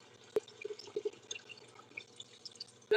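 Kitchen water drips and trickles from a tap while icing a double chocolate fudge cake, with sharp isolated drip clicks over a quiet, steady low wash of liquid.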